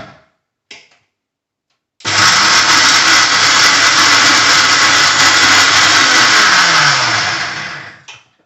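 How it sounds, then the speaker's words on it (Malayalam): A kitchen mixer grinder powders fried chillies for an Onam special thodukari, running loud and steady for about five seconds before winding down, with a couple of short clicks beforehand. "ഇത് തണുത്തതിന് ശേഷം വേണം മിക്സിയിൽ ഇത് അരച്ചെടുക്കാൻ"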